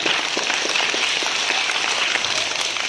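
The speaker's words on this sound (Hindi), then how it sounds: "सबके लिए जोरदार तालियां" Audience at a Diwali celebration giving loud, sustained applause for children's performances, a steady dense wash of many hands clapping throughout.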